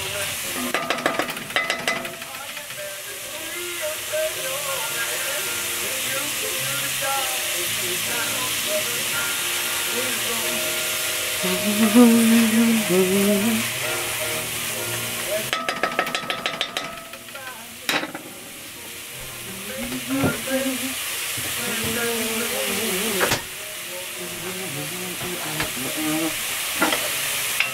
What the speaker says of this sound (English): So, cooking of the onions will be about 4 to 6 minutes.